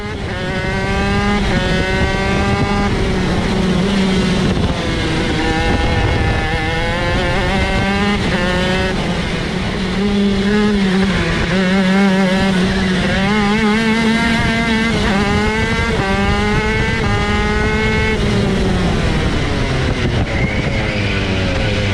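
A shifter kart engine races at high revs, a loud, continuous whine that climbs and drops in pitch as the kart accelerates, shifts and brakes. No voices are heard.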